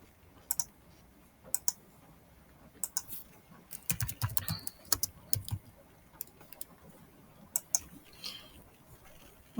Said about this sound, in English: I'm going to type in Birdie.